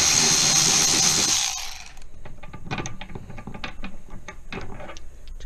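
Allen screws being removed from a curved Acorn 180 stairlift rail: broadband grinding for about two seconds, then scattered sharp metallic clicks and light taps, close and moderately loud.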